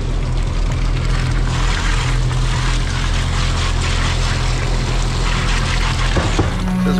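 A concrete mixer truck's drum turns to cycle its load of concrete on a hot day, giving a continuous churning, sloshing wash over a steady low engine rumble, with a brief knock near the end.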